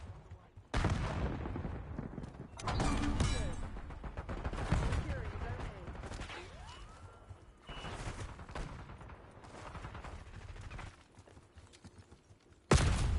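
Call of Duty gameplay gunfire crackles in scattered bursts of shots and volleys, moderately loud over a mix of game sounds, with a person talking over parts of it.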